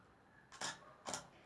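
Two crisp camera shutter clicks about half a second apart, close and clean, as a photo is taken during a photography workshop on camera settings, with no talk over them.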